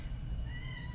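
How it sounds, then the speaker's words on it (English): A cat meows at the door, a single short, fairly faint cry over a low background hum. "sorry if you can hear meowing."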